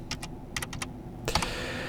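Fingers type a password on a computer keyboard in a Linux terminal: two short bursts of crisp keystrokes, then a quick cluster of louder taps, close and clear over a faint steady room hum.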